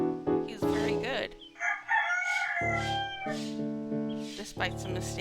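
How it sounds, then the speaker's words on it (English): A rooster in the video game Until Then crows loudly and clearly in a long, wavering cock-a-doodle-doo with several drawn-out harmonic notes. It is close and prominent, with a second call following. "We got an actual rooster."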